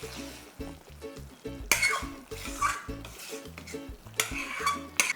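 Ginger and sugar mixture for ginger sweet being stirred and sautéed in a pan over very low heat: repeated scraping and clinking of a spoon against the pan with a soft sizzle, in steady rhythmic strokes, close by.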